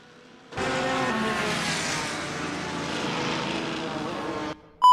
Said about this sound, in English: You can hear the revs rising across the grid.